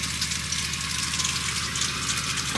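Warm water runs steadily from a camper van tap with a constant gushing hiss, over a low pump-like hum, with no speech.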